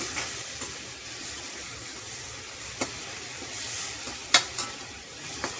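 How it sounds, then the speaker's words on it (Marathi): A ground pithla mixture is sautéed in a pan, with a continuous sizzle broken by several sharp scraping stirs of a spoon, the loudest near the end. "छानपैकी परतून घेऊया"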